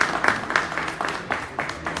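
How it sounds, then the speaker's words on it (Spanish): Audience applause welcoming a band of musicians (a singer-songwriter, a guitarist and a bassist) at a live performance, a steady, moderately loud wash of clapping with periodic surges over about two seconds. "Un aplauso, por favor."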